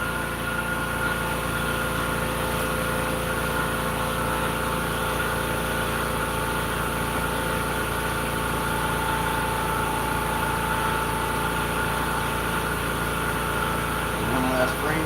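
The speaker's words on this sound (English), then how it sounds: "Sorry, the compressor kicked on" An air compressor runs steadily in a workshop where acrylic is laser cut and engraved, a constant mid-level mechanical drone with tonal hum lasting the whole stretch, unchanging and fairly close.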